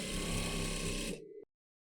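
A sewing machine runs steadily while stitching the curved seam of a drawstring duffle bag's exterior and lining, a close, even mechanical whir that slows and stops after about a second and a half.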